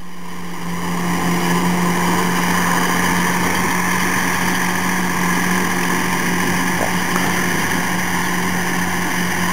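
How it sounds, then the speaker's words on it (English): A New Idea disc mower about 8 feet wide cuts pasture grass behind a tractor, its engine and cutting drone running loud and steady throughout. "This particular mower is a new idea mower that's approximately 8 feet wide."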